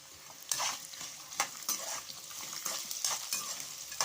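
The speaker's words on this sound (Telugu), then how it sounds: "ఇప్పుడు సన్నగా చాప్ చేసుకున్న అల్లం అయితే వేసేసుకుంటున్నాం." Finely chopped ginger sizzles in hot oil for tamarind rice, a soft steady crackle broken by sharp clinks and scrapes of a spoon stirring against the pan.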